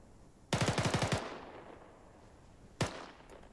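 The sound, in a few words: machine gun firing at cyclic rate, from video game Arma 3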